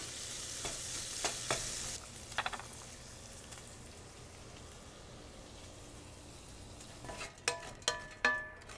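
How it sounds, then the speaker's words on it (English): Bacon sizzles steadily in a skillet, a constant crackling hiss with a few sharper pops and clinks of a utensil near the start and end. "while I finish frying my bacon."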